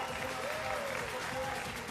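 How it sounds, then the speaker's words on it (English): Spectators at a World's Strongest Man under-105kg contest cheer and applaud a German strongman competitor, a dense, continuous roar with a commentator talking over it. "This crowd egging on the German."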